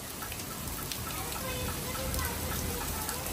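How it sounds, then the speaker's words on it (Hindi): Heavy rain falls as a dense, steady hiss and patter on outdoor surfaces at an Eid gathering, loud and unbroken, with faint voices beneath it. "बहुत तेज वाली बारिश हो रही है।"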